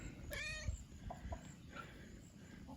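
A barn cat gives a single clear, drawn-out meow near the start, followed by softer short vocal sounds over a low background rumble.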